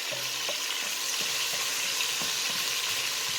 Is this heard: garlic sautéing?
yes